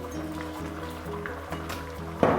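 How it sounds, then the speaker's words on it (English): Water poured into a pot of ogbono soup, a soft continuous liquid fill with a light trickling texture under a low steady hum, fairly quiet and close. "Add a little bit of water, knowing that you're not supposed to make it too watery."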